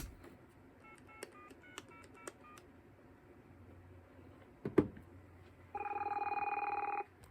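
An ISDN phone receiving a forwarded call rings near the end with a loud, steady electronic tone lasting just over a second, after a few short dialing beeps and some clicks over a low background hum.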